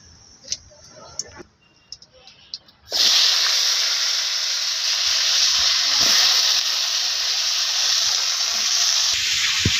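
Cumin seeds and bay leaf drop into hot oil, bursting into a loud, steady sizzle and hiss after a few seconds of scattered ticks and clatter, close and continuous.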